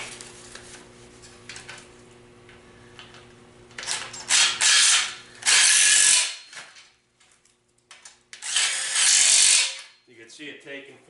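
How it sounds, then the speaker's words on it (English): Wheels on a wooden rolling firewood rack are tightened with a power drill, sounding as loud close bursts of whirring and ratcheting separated by quiet gaps, with faint talk early on. "We're going to tighten our wheels up."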